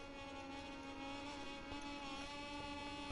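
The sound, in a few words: Moto2 motorcycle racing in the video game MotoGP 21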